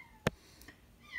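A female cat, about four years old and spayed, gives one short meow near the start, then the sound falls away into quiet room tone.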